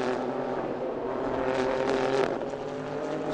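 A Renault RS01 race car engine drones at Paul Ricard as the car exits the final corner and crosses the line, a steady high-pitched whine with a brief rise in pitch midway.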